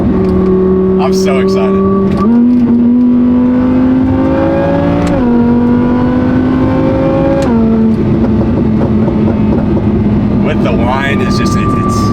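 Audi R8 with Valvetronic exhaust revving in steady rising steps, the engine note climbing and dropping between pulls, with pops and crackles on and off; a voice talks over it throughout.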